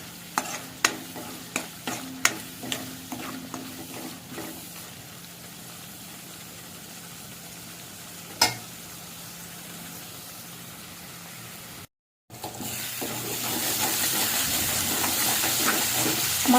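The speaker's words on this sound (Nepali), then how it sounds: "मसलालाई मजासँग भुट्दिनु" Masala for a potato and pointed gourd curry is stirred in a pan, with a run of rhythmic spatula scrapes and knocks at first, a lone clank later, then after a brief cut a steady loud frying sizzle.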